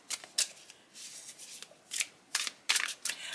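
Tarot deck of thick cards shuffled by hand, a series of short crisp riffling bursts at close range with brief quiet gaps between them.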